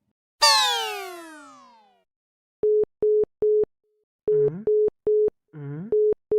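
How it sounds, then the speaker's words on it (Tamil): A phone call fails to connect to an unreachable number: a falling, fading tone is followed by a string of short, steady electronic beeps at a regular rhythm, with two brief warbling tones mixed in. No one speaks. "எத்தனை தடவை ஃபோன் பண்ற நாட் ரீச்சபிள்னே போயிட்டு இருக்கு"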